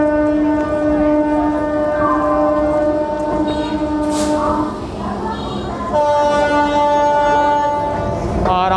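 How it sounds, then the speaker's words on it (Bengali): A Kolkata Circular Railway local train pulls into platform 5 with a loud, sustained horn blast that dips midway and then returns, over rumbling rail noise. "দেখুন আমার পেছনে ট্রেন আসছে, ট্রেন ঢুকছে 5 নম্বর প্ল্যাটফর্মে।"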